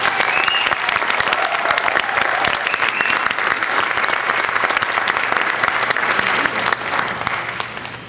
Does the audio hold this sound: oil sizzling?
no